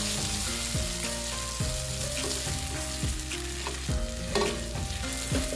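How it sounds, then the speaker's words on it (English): Chicken noodles are stir fried in a hot pan: a steady loud sizzle runs throughout, broken by repeated clanks and scrapes of utensils tossing the noodles, with no talking. "Increase the heat to a comfortable level and start stir frying the noodles."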